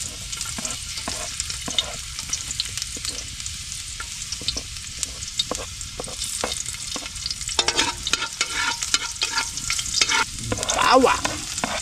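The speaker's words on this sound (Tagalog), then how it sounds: "Kami po ay manggigisa ng buro." Buro, a fermented rice, gets sautéed with ginger in a pan, giving a steady close sizzle and frying crackle with repeated scraping stir strokes throughout, growing louder toward the end.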